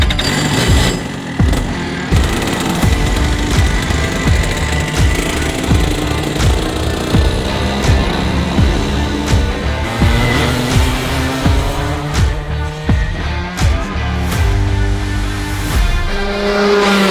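A go-kart engine revs hard and continuously on a race track, with rising and falling pitch through gear-like sweeps and occasional tyre squeal, loud and close throughout.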